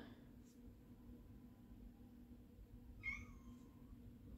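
A house cat gives a single faint, drawn-out meow partway through, somewhere off from the mic, over a steady low background hum.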